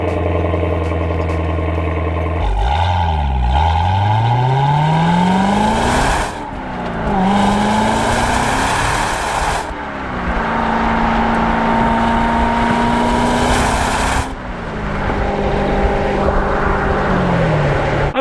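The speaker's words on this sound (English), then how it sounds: "The sound in the Corvette is actually very tame" C7 Corvette V8 with factory exhaust, revving hard and loud up through the gears, the engine note climbing then dropping at each shift, with brief lifts between pulls.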